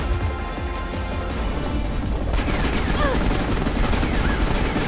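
Rapid gunfire in a boss battle from the Final Fantasy XV Episode Prompto DLC, dense bursts of shots over a steady wash of game noise, growing louder and busier partway through.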